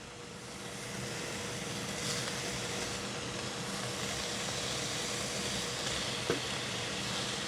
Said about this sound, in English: Now I'm going to be adding the apple slices.